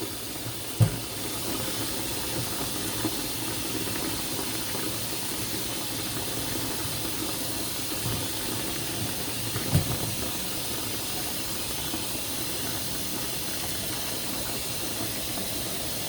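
Water runs steadily into a container for dyeing yarn, a soft continuous hiss with a couple of faint knocks, no voices.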